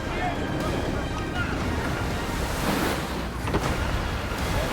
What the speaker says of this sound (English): It is brilliant sailing here